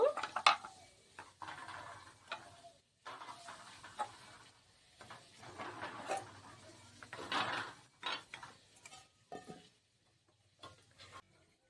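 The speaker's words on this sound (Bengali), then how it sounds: "সব পাত্রে ভরে নেবো সব কুলিগুলো ভরে নেব এইভাবে" Phirni being spooned into clay bowls in a home kitchen, with intermittent scraping and soft clinks of a spoon against the clay bowls and pan, in short separate bursts with quiet gaps between them.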